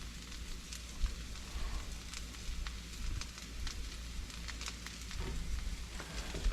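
Hash browns frying in a pan for a diner-style breakfast, giving a steady, even sizzle with soft crackles throughout, close and fairly quiet, with no talking over it.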